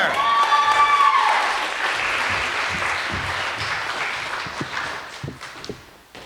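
An audience at a poetry slam applauds a poet, a burst of clapping that starts full and fades over several seconds, with a voice whooping briefly at the start.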